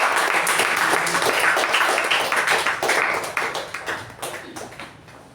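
A crowd at a Toastmasters club meeting bursts into a loud round of applause to welcome the Toastmaster of the day, the clapping holding full for a few seconds before thinning and tapering off into scattered claps.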